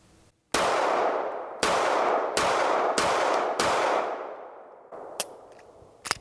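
An H&K CC9 pistol fired with a 12-round magazine: five loud, sharp gunshots spaced about a second apart, each ringing out with a long echoing decay, followed by a few lighter metallic clinks.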